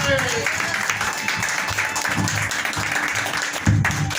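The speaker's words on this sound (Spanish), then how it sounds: "un aplauso a Cristo, por favor" A church congregation at a Spanish-language service applauds, giving praise to Christ. Steady clapping runs throughout, mixed with voices and talk over it.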